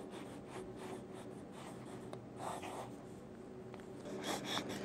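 A medium-nib fountain pen writes on paper, giving faint, soft scratching strokes in a steady rhythm at close range with no talking.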